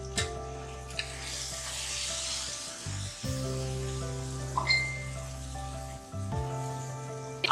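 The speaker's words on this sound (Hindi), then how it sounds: "अब इसको देखिए उबाल आ रहा है" Semolina halwa mixture boils in a pot on a home stove, a soft steady bubbling sizzle with a low hum underneath and a few faint clinks, no voices.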